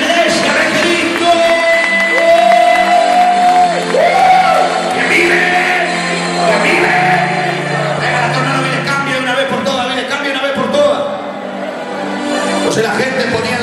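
Church congregation at a Wednesday evangelical service cheers, shouts and whoops loudly together, a dense sustained crowd roar with raised voices throughout.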